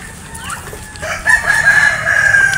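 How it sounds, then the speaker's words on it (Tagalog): Chickens clucking nearby, followed by a rooster crowing loudly in a long drawn-out call. "Papakain po siya ng mga manok niya."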